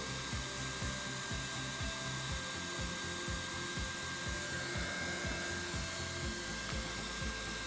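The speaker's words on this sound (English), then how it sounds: "I'm pushing the weld through just to make sure it doesn't get stopped up in there." A hot air heat welding tool pushes weld through a routed seam, giving off a steady loud blowing hiss with a faint tonal hum, constant and close throughout.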